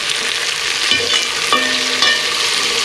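Onion and capsicum frying in a pan, a steady close sizzle with scraping and stirring clinks from a utensil, no voices.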